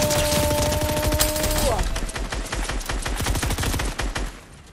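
Rapid bursts of video game gunfire, dense and loud, with shots overlapping in quick succession and a faint voice underneath.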